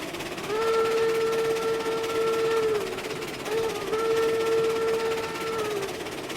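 Steam locomotive whistle in the RailRoads Online video game, a plain harmonic chord blown in two long sustained blasts with a brief gap between, loud and clear over steady rolling train noise.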